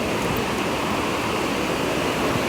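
A river rushing below a suspension bridge on the Appalachian Trail, a dense, steady roar of flowing water close by with no pauses.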